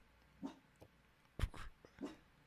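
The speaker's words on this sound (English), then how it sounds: "What are you barking at, Polita?" A few soft, distant dog barks and yips spaced irregularly over quiet background, faint and close together.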